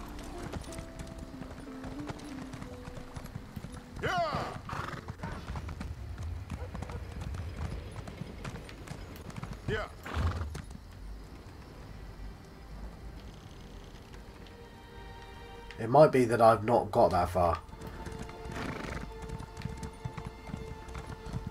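Horse hooves clip-clopping in Elder Scrolls Online, a steady quiet patter running beneath a voice, with a couple of louder bursts of game sound breaking in.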